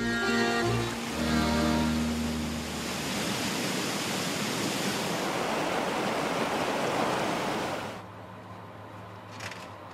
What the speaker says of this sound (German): Wochenlang hört es nicht mehr auf regnen.